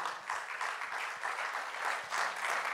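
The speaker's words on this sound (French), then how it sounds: "Et on l'applaudit bien fort." At a web industry festival, an audience claps for a young entrepreneur walking on stage, a moderately close, even round of applause that swells slightly in waves.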